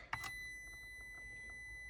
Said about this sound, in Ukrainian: Так дзвонить і міняємо щупи і так дзвонить